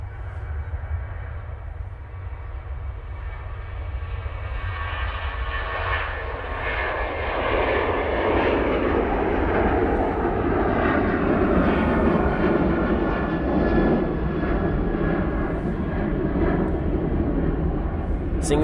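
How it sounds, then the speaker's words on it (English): Ryanair airliner jet engines at Manchester Airport spooling up on the takeoff roll, a broad steady roar that swells louder and deeper over about twenty seconds, heard from a distance with faint talking underneath. "Ryanair now on the roll."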